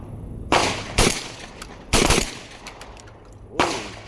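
Mac 1014 shotgun, a Benelli M4 clone, firing four loud sharp blasts at uneven intervals outdoors, each with a short echoing tail and no talking.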